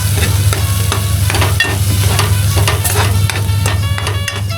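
Malvani masala paste for a prawn curry cooks over a low flame, giving a steady loud sizzle and fry with repeated scraping strokes of a spoon stirring the pan, plus a constant low hum beneath, and no talking.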